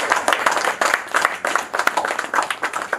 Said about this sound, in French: on peut applaudir ensemble la présidente